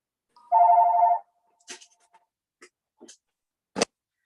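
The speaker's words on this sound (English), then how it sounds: "Let's wait for this dumb phone to shut up." A telephone gives a single short electronic ring, loud and close in an otherwise quiet room during a committee forum, followed by a few faint clicks and knocks.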